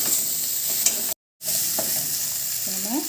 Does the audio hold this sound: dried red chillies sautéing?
yes